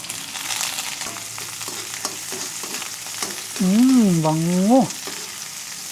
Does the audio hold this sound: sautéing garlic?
yes